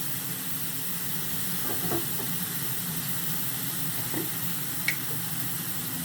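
Food steaming in a pan with a little water while cooking a liver cake, giving a steady, soft sizzling hiss throughout with a few faint clicks, no talking.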